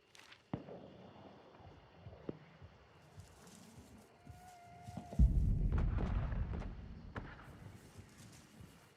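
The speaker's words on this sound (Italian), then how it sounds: "Un'esplosione, contra-esplosione." An explosion in a hunting-themed shooter video game: scattered distant gunshot cracks lead to a deep, heavy boom that rumbles on for several seconds.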